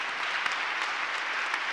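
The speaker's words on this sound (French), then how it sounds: "On peut l'applaudir et le féliciter pour ça." Audience applause at the Tremplin Croissance trophy presentation evening, steady and continuous, a dense wash of hand claps with no voices over it.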